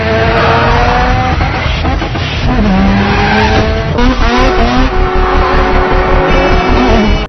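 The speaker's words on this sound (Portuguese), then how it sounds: "o som do motor desse carro era muito louco" Mazda RX-7 drifting in a Fast and Furious film scene, with loud revving engine and screeching tire squeals sustained throughout over busy soundtrack noise.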